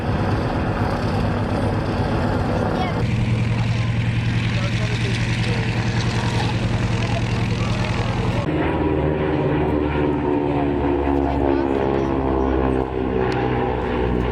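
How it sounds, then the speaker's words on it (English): A loud, continuous propeller aircraft roar at an air show, with a harsh buzzing drone from the propeller tips going supersonic that shifts pitch partway through, close and steady throughout. "That is basically the sound of the propeller tips going supersonic."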